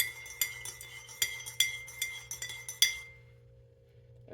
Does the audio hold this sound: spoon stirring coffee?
yes